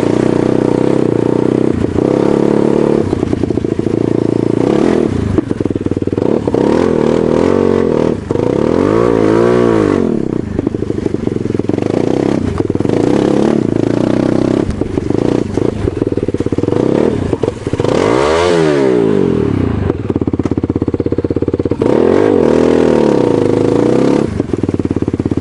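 An enduro scooter and two quads rev and rise and fall in pitch as they churn through mud, loud and continuous, with occasional clattering.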